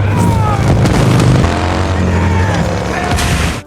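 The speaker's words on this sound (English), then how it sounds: "Unfortunately, they were soon ambushed, and a firefight ensued." Chaotic firefight in a wasteland ambush on a tanker truck, with dense booms and gunfire layered over a constant roaring engine drone, loud and continuous throughout with no pauses.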